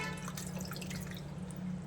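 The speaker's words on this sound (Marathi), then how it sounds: "पुन्हा एकदा स्वच्छ पाण्यावर पाण्याने क्लीन करून घ्यायचं आहे पाणी टाक तर थोडंसं पाणी टाकून घ्यायचं आहे" Water is poured over cleaned live crabs to rinse them, making a continuous close splashing and trickling over a steady low hum. It runs evenly throughout and no one talks.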